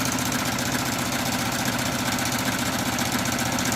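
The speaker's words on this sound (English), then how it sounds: "It's currently stitching at 700 stitches a minute" A machine embroidery stitchout of a dream catcher design running a satin stitch at around 700 to 900 stitches a minute, giving a loud, steady, rapid mechanical chatter with no pauses.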